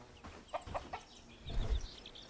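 Chickens clucking in the video game Bellwright, a few short, soft clucks close together at low volume, with no talk.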